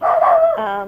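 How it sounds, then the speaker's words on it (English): A single loud, close dog bark with a short whining tail, heard on its own indoors. "sorry for my dog barking"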